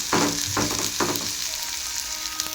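Ingredients frying in oil in a pan, meant for a dry fish curry, give a steady close sizzle with a few louder bursts early on, then settle into a constant hiss with no talking.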